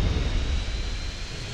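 A plane's engine in GTA San Andreas roars loud and steady, a continuous heavy drone of a flying aircraft with no talking over it.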